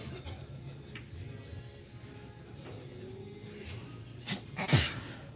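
A single sharp sneeze from a player or spectator at a live billiards team match, Team SoCal vs Team Vegas, bursting out near the end over a low murmur of room noise.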